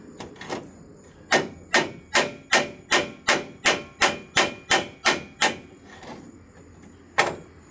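A hammer's flat face pounds a bent trailer jack mount back into shape: about a dozen sharp metallic blows in a steady, even rhythm, close and loud, with a couple of lighter taps before and one last strike after a pause.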